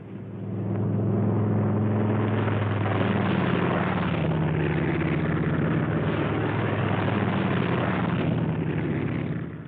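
WWII P-47 Thunderbolt fighter planes take off with a heavy, droning propeller-engine roar that swells and holds loud and steady, low pitched engine tones shifting slowly throughout.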